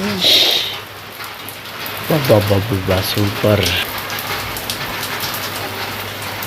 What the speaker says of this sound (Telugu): చాలా రోజులకి వర్షం పడుతుంది ఫ్రెండ్స్